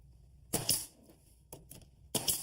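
Nail gun firing stainless ring shank nails into fiber cement siding: three sharp, loud pneumatic bursts spaced roughly a second apart, each a brief crack with a short hiss, nothing else between them.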